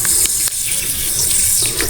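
Water flows steadily at a jackfruit farm, a continuous broad hiss and gush close by with faint voices in the background.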